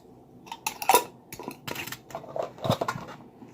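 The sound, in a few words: putting a lid on a container of BBQ sauce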